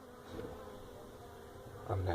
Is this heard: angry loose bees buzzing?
yes